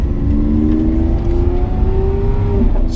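A Lamborghini Aventador engine hums steadily at speed with a low droning tone, loud and close, like riding inside the vehicle.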